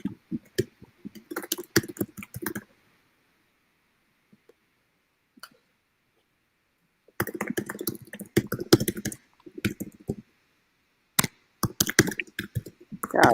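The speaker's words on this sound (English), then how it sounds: "who's typing?" Rapid clicking on a computer keyboard in bursts of quick keystrokes, close and clear, separated by a few seconds of silence before the typing resumes.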